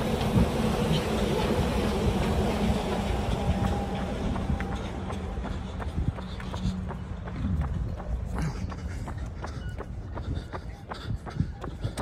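A red Disney monorail rumbles past with a steady low hum, heard beneath close running footsteps and the noise of a resort path.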